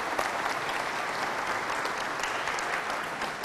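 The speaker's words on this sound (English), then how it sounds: "Let's give him a huge round of applause." An audience at a Discovery Saturday event with a former Navy SEAL breaks into dense, sustained applause, loud and continuous from a large crowd with no talking.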